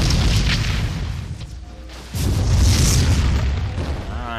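Trees explode and keep burning in the Dragonflight video game, with booming blasts and a sustained roaring rumble that dips and then surges again, loud and dense.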